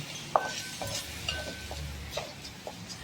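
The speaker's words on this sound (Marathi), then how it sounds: "मी आता तो भिजवलेला तांदूळ घातला आहे आणि तो मस्त असा मी परतून घेणार आहे" Soaked rice being sautéed in a pan for coconut rice, heard as faint scraping stirs and light clinks of a spoon against the pan, with a low background hum and no talking.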